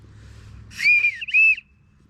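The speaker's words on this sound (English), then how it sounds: "it does come with the whistle" A small plastic whistle from a survival kit blown two times in quick succession, one short shrill blast and then a second, sharp and close, with quiet room noise before and after and no talk.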